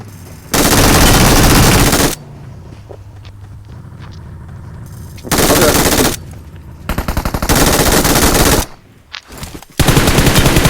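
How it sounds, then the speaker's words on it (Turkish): Gunfire in PUBG Mobile: loud, sustained automatic bursts come close, separated by quieter stretches. The quieter gaps hold scattered single shots and faint movement. "arkadan sıkıyor biri bana"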